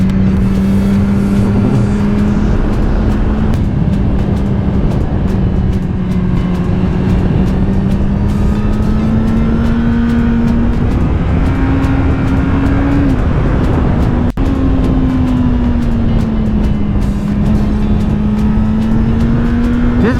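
A 2022 Suzuki GSX-R1000R sport bike ridden hard through turns, its engine a loud, steady, close drone that rises and falls with the throttle, mixed with heavy wind rush throughout.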